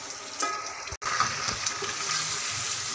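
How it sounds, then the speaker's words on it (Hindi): Mutton sizzles as it fries in a yogurt masala, a steady close crackle and hiss with a brief break partway through, no voices. "इसको हमने 10 मिनट अच्छी तरह से भून लेना है दही के मसाले में"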